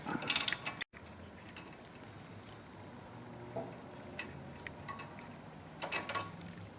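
A ratchet working 10 mm bracket bolts loose on the steering knuckle of a Trailblazer or Envoy. Short bursts of quiet clicking sit close against a faint background, with a brief silence near the start.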